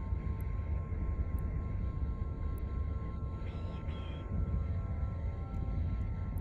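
A ship's afterburner in EVE Online gives a steady, low rumbling engine drone that holds at an even level throughout, with faint ticks above it.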